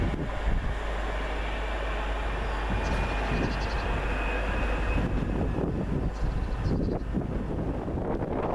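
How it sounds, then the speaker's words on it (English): A Class 730 train arrives at Bloxwich station on a driver training run, a broad rumbling roar with wind buffeting the microphone throughout and faint squeals rising over the steady noise. "Now this train arriving in is what is termed as the new kid on the block"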